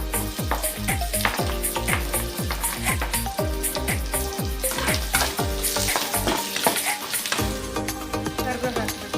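Onions hit a hot pan and fry with a bright, steady sizzle while a spatula stirs and scrapes in a quick regular rhythm, close and loud, with no voices.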